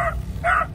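A dog barks twice in quick succession, fairly close, over a low steady rumble of idling engines.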